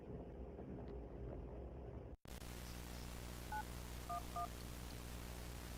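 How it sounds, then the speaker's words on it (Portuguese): Telephone keypad dialing a call to the police: a handful of distinct DTMF tone beeps in a short irregular sequence over a steady hiss, after an abrupt cut from a noisy background. "Ele então pega o telefone e liga para a polícia."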